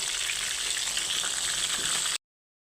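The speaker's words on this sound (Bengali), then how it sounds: "দিয়ে পটলগুলিকে ভালো করে ভাজতে হবে" Pointed gourd pieces with salt and turmeric deep-frying in oil, an even, close hiss of sizzling for about two seconds before cutting to silence.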